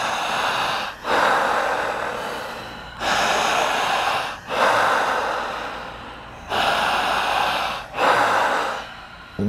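Deep, forceful breaths during a breathing exercise: long, strong inhalations and exhalations come in a regular cycle of about four loud rushes, each separated by a brief pause.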